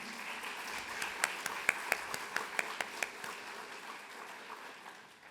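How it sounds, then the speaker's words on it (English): Audience applause at a medical school white coat ceremony, a fairly faint wash of clapping with a handful of sharper individual claps standing out, fading toward the end. "You gave yourself a round of applause before. Do it again."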